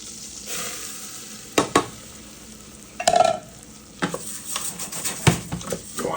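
Two cups of rice toast and are stirred in bubbling melted butter in a pan, a soft frying sizzle broken by spoon scrapes and clinks against the pot, close up, with no talk.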